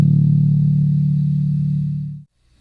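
A bass guitar's low open string, detuned a whole step to D for drop D tuning, rings out as one sustained, loud, deep note that holds steadily and then is cut off abruptly.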